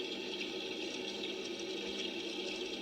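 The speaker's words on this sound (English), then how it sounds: "That's apparently running water." A toy faucet in an American Girl dollhouse bathroom plays a steady, unbroken recording of running water, a constant close hiss with no talking.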